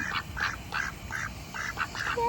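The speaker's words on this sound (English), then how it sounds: "these are our newest baby ducks" Farm ducks near a group of newly hatched ducklings quack in a string of short, repeated calls, close and moderately loud against a low background hum, with no talking.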